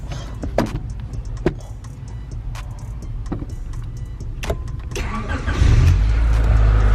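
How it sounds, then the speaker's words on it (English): A Honda CB7 car engine fires up from a push-to-start button after a few clicks and beeps, then settles into a steady, close idle with no talk. "as you can see, the car is started. All from that little button right down there."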